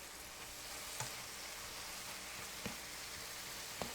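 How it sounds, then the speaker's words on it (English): Apples cooking in a pot for applesauce, a faint steady sizzle with three soft spoon scrapes about a second apart. "let's just stir this a little bit here"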